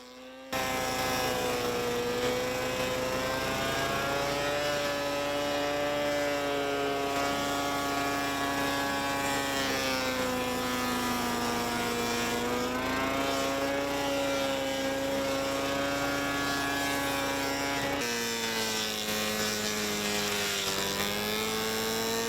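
A stump grinding alternative machine runs steadily at close range: a loud, continuous engine drone with a strong harmonic whine that shifts slightly in pitch and drops briefly near the end, with no voices.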